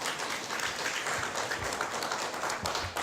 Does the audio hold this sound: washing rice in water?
no